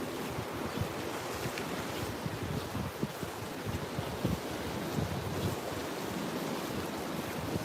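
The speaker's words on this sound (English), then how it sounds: "Some of them are pouring out water." Waves breaking on a north Norfolk beach at Walcott, with drain outlets pouring water into the sea; a steady, fairly loud rush of surf and flowing water with gusty wind buffeting the microphone, no voices.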